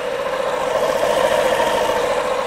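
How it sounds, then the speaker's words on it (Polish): A Honda Forza 125 scooter engine with a Malossi variator and CVT belt runs steadily at a mid-pitched hum with a constant whine, loud and close, with no talking. "Tak musi pasek pracować w przekładni prawidłowo zestrojonej, pracującej."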